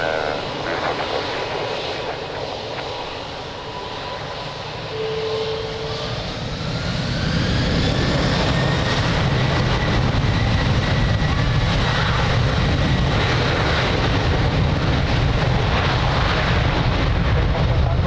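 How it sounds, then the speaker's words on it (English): An airliner takes off from runway 02 at Lisbon Airport, its engine roar building from a distant rumble into a loud, sustained, broadband thrust, with faint radio talk underneath early on. "Runway 751, clear for takeoff."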